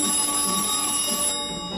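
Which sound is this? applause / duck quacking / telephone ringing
telephone ringing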